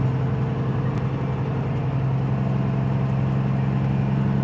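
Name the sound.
convoy of big trucks passing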